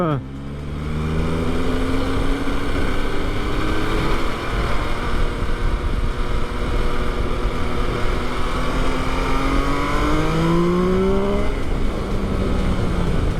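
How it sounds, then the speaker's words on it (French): A high-revving 2020 MV Agusta motorcycle engine climbs and drops through several gear changes, loud and close, its rising whine sweeping up repeatedly over a rough roar. "Le moteur aussi qui a une sonorité vraiment particulière"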